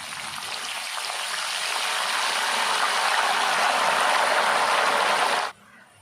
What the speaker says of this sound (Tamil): நல்லா அந்த சிப்ஸு பொரிஞ்சிட்ருக்கும்போதே உப்பு மஞ்சள்தூள் கலந்து வச்ச தண்ணியை கொஞ்சம் கொஞ்சமாக சேர்த்துக்கலாம்